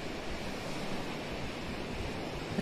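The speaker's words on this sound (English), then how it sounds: "Just listen to the waves." Ocean waves washing onto a beach at night, a steady broadband surf wash with a wind-like rush, continuous and fairly loud with no talking.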